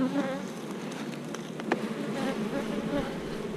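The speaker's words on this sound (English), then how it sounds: "So let's get rid of them bees." A colony of honeybees buzzes around an opened hive, a dense steady drone of many wings close by with individual bees whining past, and no one talking.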